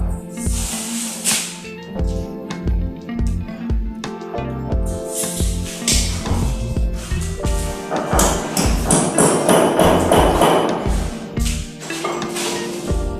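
Repeated hammer blows thud in an uneven rhythm while tile is laid, loud and close, mixed with scraping and clattering work noises.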